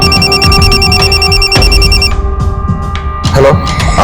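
A telephone ringing loudly over a speakerphone in a Hindi crime drama, a fast trilling electronic ring that cuts off partway through and is followed by brief clicks and faint rustle.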